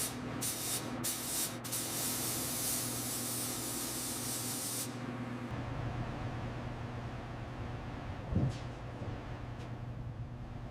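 Spray gun laying down a final clear coat on a 1930 Ford Model A, a steady broadband hiss for about five seconds that cuts off, leaving a low workshop hum with a brief thump near the end.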